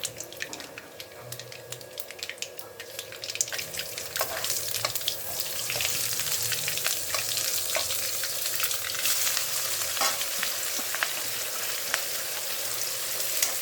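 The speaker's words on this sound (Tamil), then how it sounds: "கடுகு வெடிக்கட்டும்." Steady sizzling and rapid popping crackle as mustard seeds splutter in hot oil, with occasional clinks of a spoon.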